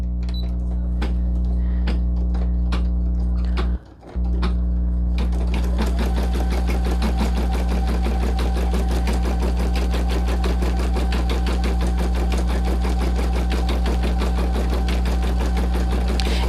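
An embroidery sewing machine stitches fabric onto a greeting card in a 5x7 hoop, running a loud, steady rapid needle rhythm with a brief pause early on before continuing without a break.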